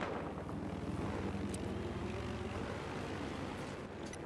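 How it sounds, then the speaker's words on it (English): An attack helicopter in a Battlefield Hardline multiplayer match flies overhead with a steady, loud droning engine and rotor roar that holds level throughout, with a few faint sharp game sounds on top. "They're using a chopper."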